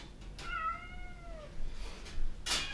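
A rescued cat, abandoned in a rented house, gives a clear, close, drawn-out meow followed by quieter rustling.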